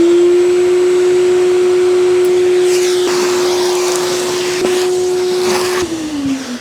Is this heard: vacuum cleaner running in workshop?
yes